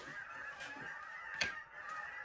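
Geese honk outdoors in a few scattered calls, one louder honk standing out over a steady background hiss, faint and somewhat distant.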